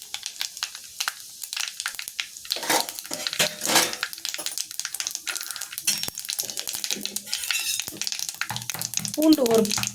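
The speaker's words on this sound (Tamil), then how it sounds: "3/4 கரண்டி எண்ணெய் சேர்த்துக்கலாம். கடுகு கொஞ்சம், கடுகு பொரிஞ்சதும் சீரகம் கொஞ்சம் சேர்த்துக்குங்க." Mustard seeds and cumin frying in hot oil in a pan for chayote kootu: a continuous crackling sizzle dotted with sharp pops and a few metallic utensil clinks, close by.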